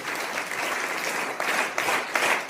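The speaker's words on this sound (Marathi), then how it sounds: "टाळ्या वाजवा." Audience clapping for a school bhajan group at a district-level bhajan competition, a dense sustained applause with a few louder surges, no voices over it.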